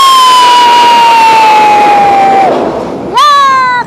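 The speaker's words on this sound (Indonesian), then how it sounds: "kereta api yang baru saja melintas adalah kereta api bandara" An airport rail link train passes close by, with a long loud horn blast that slowly falls in pitch and then cuts off, followed by a second sharp horn call. The train's rumble runs underneath throughout.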